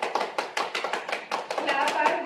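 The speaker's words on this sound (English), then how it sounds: "Clap" A yoga group clapping their hands together as an exercise, a quick run of sharp, fairly close claps with a voice speaking over part of it.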